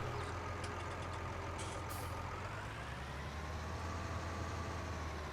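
Vehicle engine idling in Farming Simulator 19, a steady low rumble with an odd out-of-place tone mixed in, running alone with no voices.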